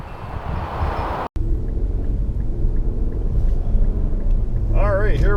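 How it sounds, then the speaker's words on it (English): A 2019 Infiniti Q60 Red Sport 400 with a twin-turbo V6 driving, heard from inside as a steady low engine and road rumble, with a brief voice near the end. "here we are taking this Q60 Red Sport 400 out for a spin"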